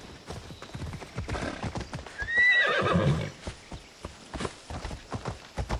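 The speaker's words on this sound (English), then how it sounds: "Can call the horse again." In Assassin's Creed Odyssey, a summoned horse neighs once, loud and near, midway through a run of steady clip-clopping hoofbeats on hard ground.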